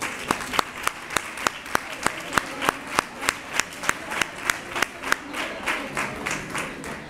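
Applause from a crowd at a Three Kings proclamation and prize draw in Nerva, with one loud rhythmic clap beat standing out over the general clapping.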